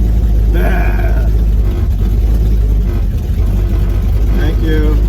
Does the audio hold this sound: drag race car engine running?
yes